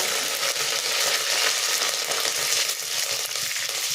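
Curry leaves crackle and sizzle in hot oil with mustard, fenugreek and cumin seeds for a home-style salmon fish curry, a steady dense hiss that stays loud and even throughout.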